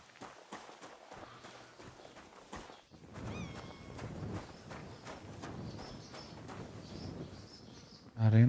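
A grey horse in the video game Kingdom Come: Deliverance II walks with an even clip-clop of hooves, close and moderately loud, with birds chirping faintly in the background.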